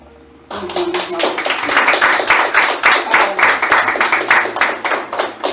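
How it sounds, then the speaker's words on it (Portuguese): A church congregation breaks into sustained applause, dense rapid clapping that starts abruptly and continues loudly throughout. "Uma salva de palmas para Ele."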